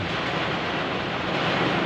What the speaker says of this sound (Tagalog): niyayanig yung sa ano taxi natin sa sobrang lakas ng hangin